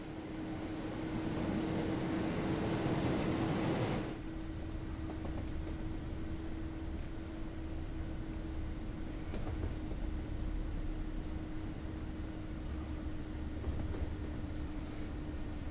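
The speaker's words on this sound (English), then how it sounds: "This is a very pretty train." A train passes outdoors near grass. A loud broad rushing roar lasts about four seconds, then drops to a steady rumble with a constant droning tone that continues to the end.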